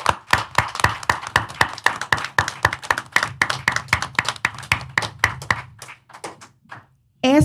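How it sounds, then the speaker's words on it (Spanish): Applause for a Puerto Rican diaspora activist, heard as sparse, close, sharp claps in an irregular quick rhythm that thins out and stops, with a voice starting up right at the end. "pido un fuerte aplauso"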